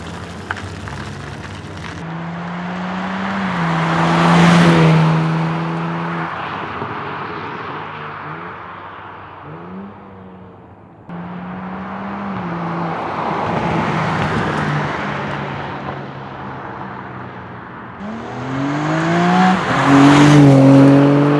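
A BMW G80 M3 fitted with a 4-inch midpipe makes two flyby passes, its exhaust swelling loud as it nears and rushes past, fading, then a second approach with sharp upshifts rising at the end.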